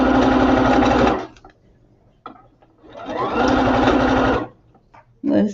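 A sewing machine stitches in two close, steady bursts, each about a second long. A quiet gap with faint handling noise separates them, and a short third run starts at the end.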